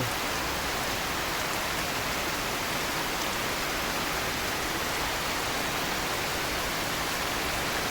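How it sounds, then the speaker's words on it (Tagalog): Heavy rain pours down at midday in Bicol, Philippines, in a dense, unbroken hiss, loud and close, with no voices or gusts of wind. "Bagamat malakas ang ulan ay walang kahangin-hangin."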